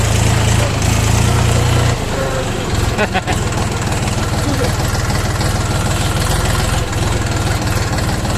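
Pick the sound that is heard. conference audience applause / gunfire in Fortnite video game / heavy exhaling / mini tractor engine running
mini tractor engine running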